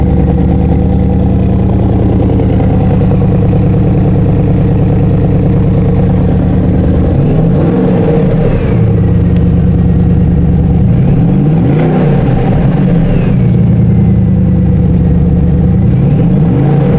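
A Porsche Cayenne Turbo S in Thief Black Metallic runs loud and close, its engine holding a steady idle rumble broken by a few short revs, with no one talking.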